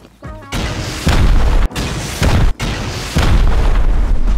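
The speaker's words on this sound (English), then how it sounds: "Last furnace base, it took 5 rockets, right? No, it took 6 rockets. We went with rocket launcher." Rocket launcher rounds explode against a furnace base in Rust, a run of heavy booming blasts at uneven intervals, loud and close, each leaving a dense rumbling roar.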